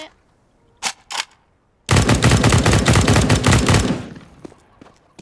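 A CS:GO gun fires a sustained automatic burst of rapid shots lasting about two seconds, preceded by a couple of short isolated clicks, loud and close.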